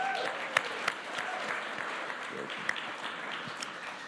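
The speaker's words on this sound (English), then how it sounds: "So just one big round of applause again for you." Sustained applause from a conference audience at a fireside chat, steady and fairly loud, with a few sharper claps standing out throughout.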